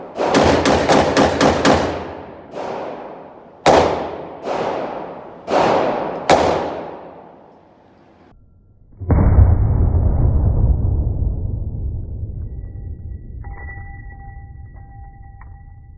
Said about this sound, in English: no evaluation of any pistol is going to be decent without shooting it as fast as I can